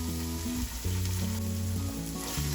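Egg frying with vegetables in oil in a pan for instant noodles, a steady close sizzle with occasional stirring scrapes, no talking.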